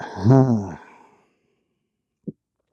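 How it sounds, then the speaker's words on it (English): A single deep, voiced breath out during a backbend yoga session, close and fairly loud, fading into silence and followed by one small click. "Deep breath in, deep breath out."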